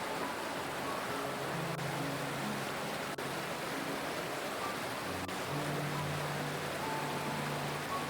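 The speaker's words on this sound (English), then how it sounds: "The sound of the water is so calming" Steady river water flows over stones beside rubber trees, a constant, even rushing hiss with no pauses, moderately soft and close. Faint higher tones sit above it.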